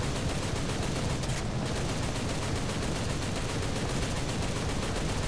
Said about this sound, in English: we got another guy shooting at us